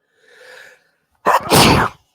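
A sharp inhale followed by a loud, explosive sneeze up close, then silence.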